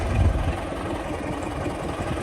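A YuMZ-6 tractor engine runs steadily throughout, a continuous low rumbling idle with a slightly louder swell at the start, heard close up with no talking over it.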